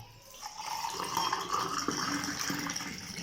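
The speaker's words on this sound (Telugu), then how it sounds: "ఇప్పుడు ఇందులో కూడా వాటర్ను కలుపుతున్నానండి" Water being poured into a glass holding ice cubes for a fennel seed summer drink, a steady close-up gurgling fill with faint clinks.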